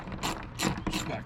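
A ratchet backing out a bolt while installing a Rough Country roof basket on a Jeep JK, three short quiet clicking bursts, close by.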